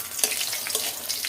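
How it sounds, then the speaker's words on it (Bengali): Chillies sizzle and crackle in a hot pan, a steady close hiss with a few small pops, heard alone. "এটা একটু ভাজাভুজি করে নেই"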